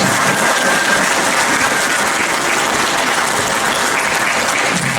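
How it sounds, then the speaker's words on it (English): Loud, dense audience applause after a performance by a group, a continuous roar of many hands clapping at once that stays steady throughout with no gaps. "Give them another round of applause."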